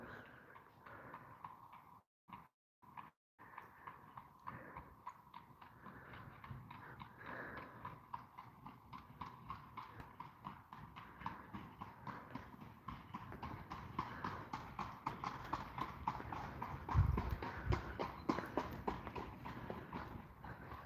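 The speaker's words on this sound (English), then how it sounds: "There's the horse and buggy now." Steady clip-clop of horse hooves on pavement in Lublin, Wisconsin, faint at first and growing louder as the horse and buggy draw nearer.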